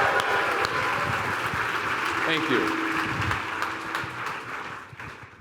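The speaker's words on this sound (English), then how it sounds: "Round of applause for mom and dad." An audience applauds the speaker's parents at a large event hall, steady crowd clapping that carries on under the talk throughout and fades slightly toward the end; a voice says thanks over it.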